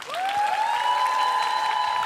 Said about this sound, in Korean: 자 여러분 우리 수지양한테 박수 한번 주세요